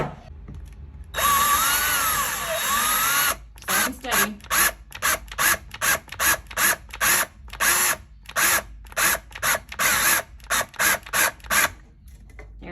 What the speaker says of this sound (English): I use my husband's drill